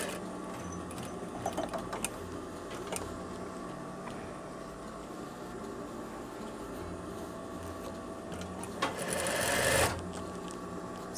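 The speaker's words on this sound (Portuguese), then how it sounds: "E agora vou passar um rebatido aqui." A sewing machine topstitches a veterinary coverall, running steadily and evenly with a quiet mechanical whir for about eleven seconds, briefly getting louder near the end, with no talking.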